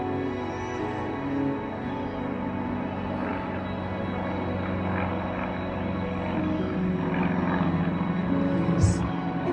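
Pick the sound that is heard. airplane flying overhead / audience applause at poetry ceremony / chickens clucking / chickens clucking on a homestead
airplane flying overhead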